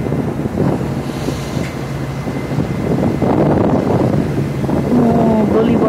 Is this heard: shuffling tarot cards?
no